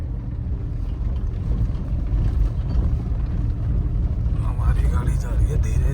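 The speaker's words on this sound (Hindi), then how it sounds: "हमारी गाड़ी जा रही है धीरे धीरे।" A car creeps slowly along a rocky mountain road on the Manali to Baralacha route, its low engine rumble and crunching tyres steady throughout, with a voice speaking over it.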